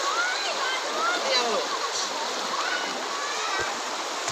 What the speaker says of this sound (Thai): มาเที่ยวน้ำตกแกงกี่เขียวเด้อครับ